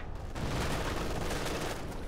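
Gunfire in the video game Company of Heroes 2, a dense crackling burst of rapid shots with low rumble, steady and moderately loud over about two seconds.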